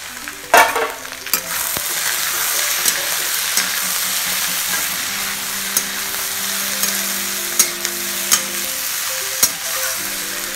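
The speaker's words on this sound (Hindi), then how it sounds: "सब्जी को तो मैं बहुत अच्छे से भूनती हूँ" Vegetables frying in a pan in a village home kitchen, a steady close sizzle with stirring scrapes and a few sharp utensil clinks throughout, no talk.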